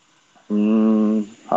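A hot air tool switches on and blows with a steady, loud electric buzz for under a second, then cuts off, with faint background noise before and after.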